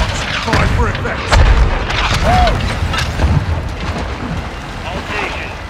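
Artillery barrage striking in Call of Duty: Modern Warfare II, a series of heavy deep booms and rumbling impacts rolling on, with radio voices and game sounds over the top.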